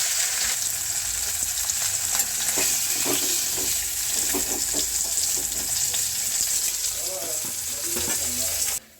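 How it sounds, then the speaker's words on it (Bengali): Cauliflower florets fry in oil left over from frying fish, giving a steady, close hiss of sizzling with occasional small stirring clicks and pops, continuous and loud throughout. "এই মাছ ভাজার তেলে আমি ফুলকপিগুলো ভেজে নেব"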